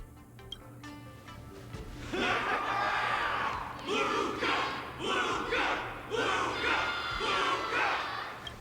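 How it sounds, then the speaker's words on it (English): A large crowd roars and chants in rhythmic waves in Honkai: Star Rail at a martial arts ceremony finale, surging loud several times in a row after a quieter opening. "Everyone's cheering for you, Luca."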